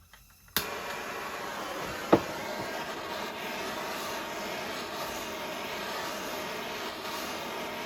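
A Jonsered 2165 chainsaw engine runs steadily after fresh bearings were fitted, a loud sustained high-pitched drone starting abruptly after a brief pause, with a sharp click partway through.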